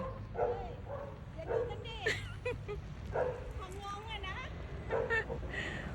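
A dog barks at a stranger with a series of sharp barks and yips spread across the moment, mixed with people talking nearby.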